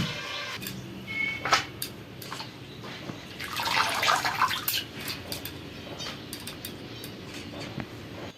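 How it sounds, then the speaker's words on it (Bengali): Gandal (skunkvine) leaves being rinsed by hand in water, with sloshing, dripping splashes and a fuller swirl of running water in the middle, close and moderately loud, with no talking. "গাঁদার পাতাগুলোকে ভালোভাবে পরিষ্কার করে ধুয়ে নেবো"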